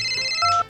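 A short electronic telephone ringtone plays alone: clear, steady tones that shift pitch partway through the brief ring.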